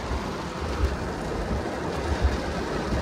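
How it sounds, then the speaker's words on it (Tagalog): Heavy rain pours down steadily in Guangzhou, a dense continuous roar with low rumbling swells, no voices. "Sobrang lakas ng ulan sa Guangzhou."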